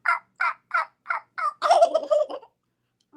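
A man imitates wild turkey calls with his voice: five evenly spaced hen yelps, then a loud, rattling gobble, all close and alone, with a brief new call starting at the very end.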